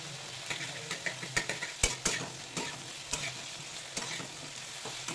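Ginger frying and being stirred in a pan at home, a steady soft sizzle broken by sharp scraping clinks of a spatula at irregular moments.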